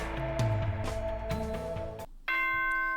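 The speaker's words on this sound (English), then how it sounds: "Ding dong bing bong." A nighttime announcement chime from the video game Danganronpa 2 rings out, with a busy musical passage of sustained tones before a brief gap, then bright, steady bell-like chime notes sound loudly to the end.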